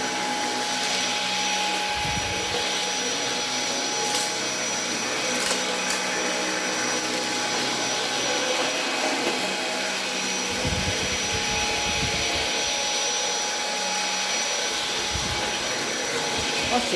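A Roborock H6 cordless stick vacuum cleaner runs nonstop with a steady, loud, airy whine and broadband rush, close by, with faint bumps and brief shifts as it is moved around.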